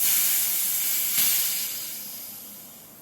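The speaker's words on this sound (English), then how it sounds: "slowly push in the Schrader valve" Air hisses steadily out of a coilover's Schrader valve on a Ford F150 2.5 coilover under 150 psi, a close, bright, continuous rush that swells briefly, then slowly tapers as the pressure drops.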